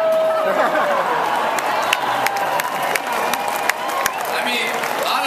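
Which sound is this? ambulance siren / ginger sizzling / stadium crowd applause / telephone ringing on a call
stadium crowd applause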